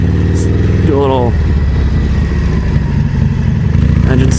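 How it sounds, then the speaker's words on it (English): A motorcycle engine runs steadily after a repair, a close, loud, continuous mid-pitched drone with a brief rev partway through, heard outdoors on a chilly day. "Engine still sounds good."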